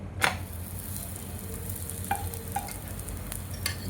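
Sindhi koki roti sizzles faintly in ghee on a griddle just after being flipped, a soft steady hiss with a few light clinks and scrapes, and no voices.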